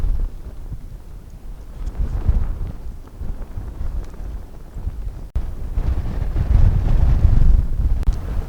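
Wind buffets a microphone on a mountain summit at 12,890 feet, a low rumbling gust noise that swells and fades continuously, with no talk.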